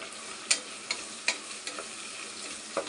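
Green chilies fry in a pan of mushroom biryani base, giving a soft, steady oil sizzle broken by a few light clinks and scrapes of a stirring spoon.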